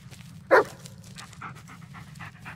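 Dog panting in the Blair Witch video game, a brief louder breathy burst near the start over a steady low hum and faint game ambience.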